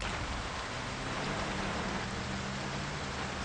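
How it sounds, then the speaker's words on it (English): Rain in the video game Project Zomboid, a steady, even hiss of heavy rainfall filling the scene without pause, moderately loud and unchanging. "Such obnoxious rain noise in this game."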